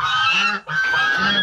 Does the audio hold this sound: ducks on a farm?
yes